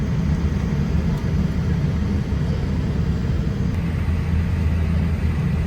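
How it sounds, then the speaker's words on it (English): A Boeing 737 jet takes off at an airport, a steady, heavy, low rumbling roar heard from some distance, continuous throughout with no talking. "The 737 has just took off"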